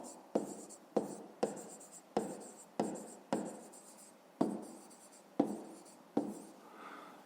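A pen or pencil writes out a math exercise by hand, giving about ten crisp taps and scratchy strokes in a steady rhythm, close and clear, with no talking.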